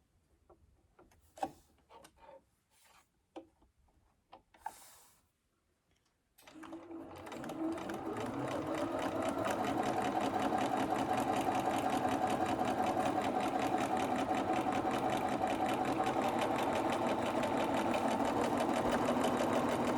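A home sewing machine stitching a fabric face mask: a few soft handling clicks and taps, a brief pause, then the motor starts and runs in a fast, steady mechanical rattle that continues close and loud to the end.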